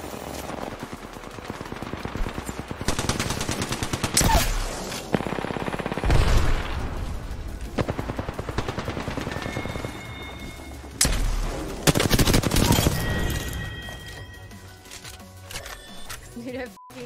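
Bursts of Flatline rifle fire from the video game Apex Legends, shot over iron sights at long range. Rapid automatic volleys come in repeated strings, mixed with booms and impact thuds, while players talk over the gunfire.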